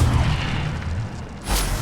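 Incendio fire spell cast in Hogwarts Legacy, a low rumbling magical burst with a fiery whoosh that swells near the end, loud and close with no talking.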